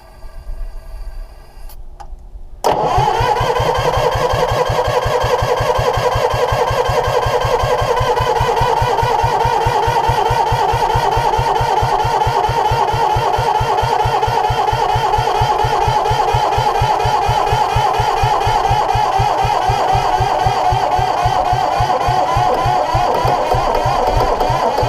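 A two-cylinder Cummins diesel, dormant for over twenty years, cranks and catches after a quiet start, then settles into a loud, steady, close-up running rumble with a fast, even knock that lasts to the end.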